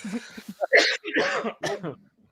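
A few sharp coughs and throat-clearing bursts, close and fairly loud, in quick succession.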